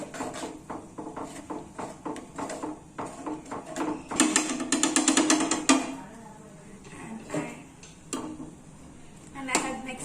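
Metal spoon scraping and clinking against a pan while paneer butter masala mixture is stirred, with a steady run of short scrapes and a louder dense burst midway, close up.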